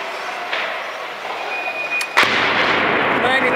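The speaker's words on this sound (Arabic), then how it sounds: "قصف عنيف جدا بقذائف الهاون على أحياء حمص المحاصرة" Heavy mortar fire strikes besieged neighborhoods of Homs, Syria, during a 2014 aid convoy entry, with a sharp loud impact midway followed by a sustained rumbling roar and broadband noise.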